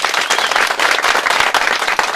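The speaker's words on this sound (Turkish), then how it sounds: "Bir alkışlayalım tekrar" Audience applause at a gathering in Pınarcık, Kütahya, dense steady clapping from a crowd filling the whole stretch, loud and even with no voices over it.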